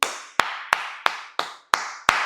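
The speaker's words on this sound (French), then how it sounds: "on lève les mains et on applaudit" Rugby players in a changing room giving slow, sarcastic claps for the staff after a Castres Olympique versus Montpellier match, seven sharp, evenly spaced claps ringing out in a reverberant room.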